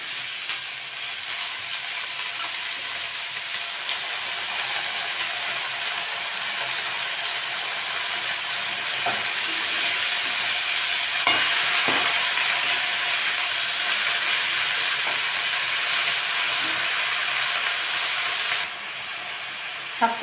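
Shrimp and red amaranth greens frying in a pan, a steady close sizzle and hiss with occasional stirring scrapes and clinks, continuous throughout.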